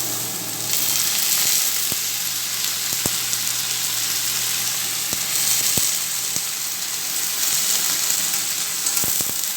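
Chopped potatoes sizzle steadily in a hot pan for a potato-peel chorchori, a continuous hissing fry broken by a few sharp clicks of a spatula stirring through them.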